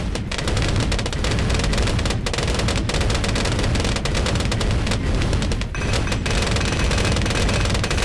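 Rapid fire shooting in the Bloons TD 5 tower defense video game, a dense, steady barrage of quick popping shots with sharper bursts throughout, loud and continuous for several seconds.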